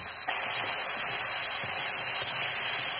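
Potatoes fry with salt and turmeric in a pan, a loud continuous hiss and sizzle that starts abruptly and carries on steadily with no talk.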